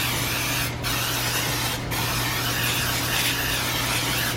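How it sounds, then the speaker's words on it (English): Cooking spray hisses in one long continuous burst, broken by two brief pauses, loud and close with a faint electrical hum underneath. "I'm just going to spray it with non-stick cooking spray"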